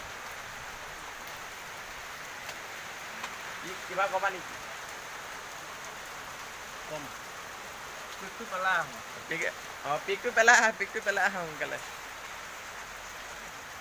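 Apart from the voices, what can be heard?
heavy rain falling outside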